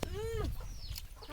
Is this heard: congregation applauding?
no